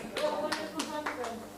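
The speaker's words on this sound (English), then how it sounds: "they deserve this applause" A handful of people clap slowly for the conference team, about five distinct claps spaced out over a second and a half, fairly close, with a faint voice underneath.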